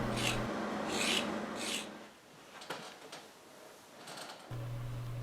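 A blade scrapes spilled wax off the borders of a linseed-oiled wax writing tablet in a few short, close, quiet rasping strokes separated by brief pauses.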